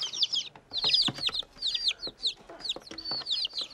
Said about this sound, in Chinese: 小鸡在里边啊，就跑得开了